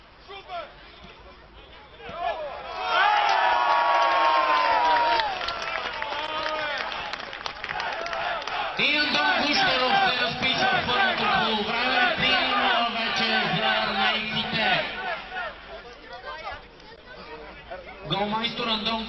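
A football crowd in a stadium applauds and cheers after a CSKA goal, a broad swelling roar with shouts and clapping that rises, dips, then surges again, while a commentator talks over it.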